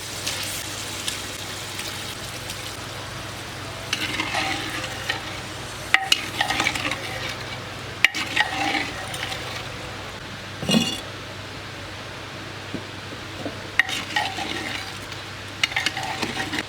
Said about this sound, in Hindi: अभी इसमें ये सारा गोश्त डाल देंगे और 10 मिनट तक हम गोश्त की बनाई करेंगे।